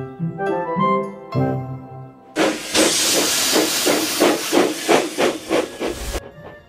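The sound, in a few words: steam locomotive puffing steam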